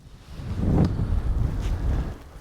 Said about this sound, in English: I've come to the lee side of the crags because it's quite windy.